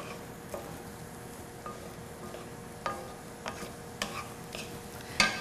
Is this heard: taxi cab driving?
no